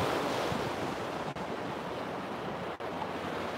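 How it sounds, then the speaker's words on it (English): Wind blowing outdoors on a morning, a loud continuous roar buffeting the microphone with two brief dropouts. "the wind is killing me this morning"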